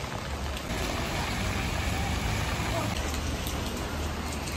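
Steady rain pours down outdoors, a dense, loud, unbroken hiss that fills the whole scene close by with no clear pauses.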